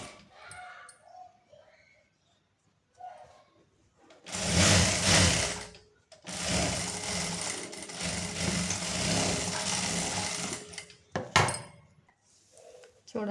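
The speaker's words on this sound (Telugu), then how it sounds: "ఇలా తిప్పాక ఈ పైన అనేది ఒక కుట్టు వేసుకోండి." A sewing machine stitches a straight-cut pant, running in two loud, steady whirring bursts of rapid needle clatter close by, with quieter handling noises of fabric and pauses between.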